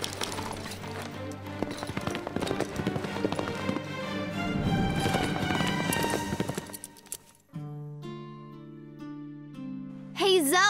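Horse hooves clip-clop in quick rhythm as a horse is ridden in a cartoon, the steps mixed with music and effects and fading out before a sustained musical tone and a whinny-like sweep at the end.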